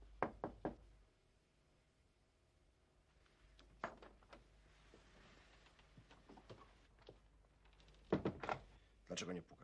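Someone knocks on a door in the 1987 Polish film Sala nr 6, with clusters of hard raps near the start, in the middle and toward the end, and muffled voices talking between them.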